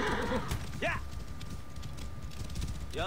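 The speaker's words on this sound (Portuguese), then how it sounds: "Cavalo do faraó, que agora é meu." A horse's hooves clip-clop in the video game Assassin's Creed Origins as the pharaoh's horse is ridden, a steady patter under a low ambient bed, with voices speaking over it.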